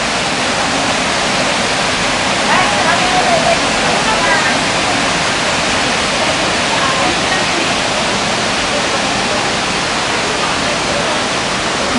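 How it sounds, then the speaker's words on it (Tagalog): A waterfall seen from a distance gives off a steady, dense rush of broadband water noise that fills the whole stretch evenly and loudly, with no breaks. "Tanaw kami sa falls."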